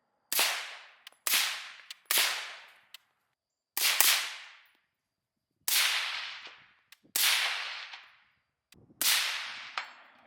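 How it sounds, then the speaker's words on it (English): A carbine fires through an Otter Creek Labs OCM5 suppressor: seven sharp suppressed shots spaced about a second or more apart, each a crisp crack with a short decaying tail, outdoors and alone. "You cannot shoot a Gordon carbine with the OCM5, and it's probably the same for the AEM5, without walking away with a smile on your face."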